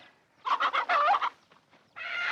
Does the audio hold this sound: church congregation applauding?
no